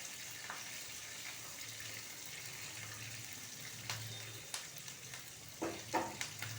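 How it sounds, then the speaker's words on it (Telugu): Tempering spices sizzle steadily in hot oil in a pan, a continuous close frying hiss with a few sharper crackles and clinks toward the end, no voices. "పోపు వేగొచ్చింది."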